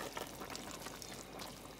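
Water is poured steadily into a pot of traditional Guyanese New Year's Eve cook-up rice, a continuous soft splashing rush with no talking.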